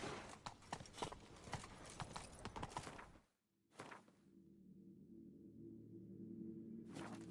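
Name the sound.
horse Roach running, from video game The Witcher 3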